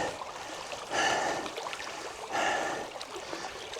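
Creek water runs steadily over wet rocks, a close, continuous rushing wash with two brief louder surges, no talking heard.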